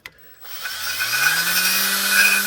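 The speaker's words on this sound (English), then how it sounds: "Use a razor blade or on the end of a drill." Power drill with a cleaning attachment scrubbing the gasket surface of an aluminum 5.0L Ford engine block, a steady close whine that rises in pitch and then holds, running alone without talk.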